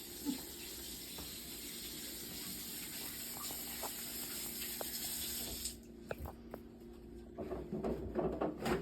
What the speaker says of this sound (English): first step is you gotta wash your hands.